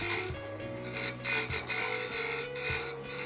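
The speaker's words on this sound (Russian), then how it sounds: "убираем его на шлифовальную." A welded seam on a band saw blade is ground down on a grinding machine, giving a continuous close rasping scrape that swells in short repeated pulses as the blade is worked against the wheel.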